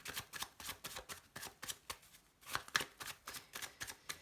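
A deck of tarot cards is shuffled by hand in quick, even riffling bursts, about a dozen close soft flutters with brief pauses, no talking.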